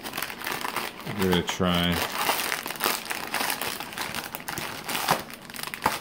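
A bag of Nancy Adams peppermint pretzels is ripped open with loud, continuous plastic crinkling and crackling near the mic, and a voice talks briefly over the rustle.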